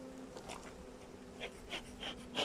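Honeybees at a newly opened hive during spring beekeeping, a faint, soft buzzing with individual bees passing close in brief swells, growing slightly louder toward the end.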